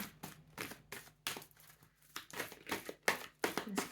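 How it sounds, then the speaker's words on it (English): A stiff new deck of playing cards being shuffled by hand, with repeated bursts of papery riffling and crinkling in an uneven rhythm, close and fairly loud, no talking. "These cards are really hard to shuffle"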